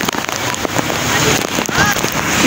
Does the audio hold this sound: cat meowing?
no